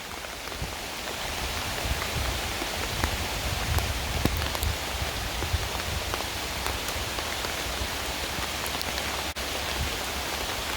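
Steady, dense rainfall pattering on surfaces, a continuous hiss with scattered heavier drops throughout, no voices.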